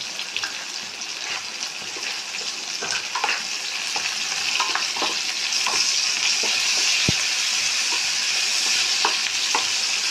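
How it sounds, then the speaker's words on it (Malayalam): Chilli potato with spring onion and salt sizzles in a pan, a bright continuous hiss punctuated by scattered stirring clicks and scrapes, growing slightly louder over time. "അധികം ഫ്രൈ ആവണ്ട."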